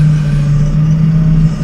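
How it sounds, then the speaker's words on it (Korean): Forklift engine running steadily while unloading euroform panels at a small construction site, a loud, close, constant low hum with no break. "지게차 엔진 소리 그리고 이제 현장의 소리 모든 걸 다 살렸습니다."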